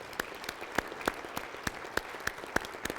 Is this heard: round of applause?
yes